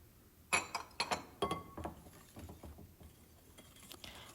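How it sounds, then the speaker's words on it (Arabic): A whisk clinks quickly against a bowl while beating cake batter of oil and raw cocoa, a run of bright, irregular taps that starts strong and fades to lighter strokes. "هلا بخفقهم كتير منيح"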